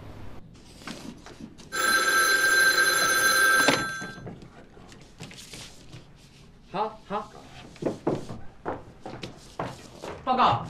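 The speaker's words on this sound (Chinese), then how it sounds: "是师长杜清时打来电话。" An old-style telephone bell rings loudly in a short continuous burst, then stops; voices and footsteps-like thumps follow in a room as people talk.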